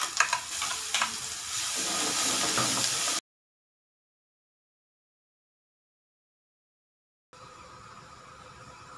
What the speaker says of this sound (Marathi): कोथिंबीर आणि हे वाटण याच्यामध्ये चांगलं परतून घ्यायचं आहे मसाल्यामध्ये